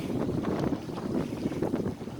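Strong wind roars steadily across the microphone while sailing a small boat in about 20-knot gusts, a continuous loud buffeting rush with water sounds beneath and no talk.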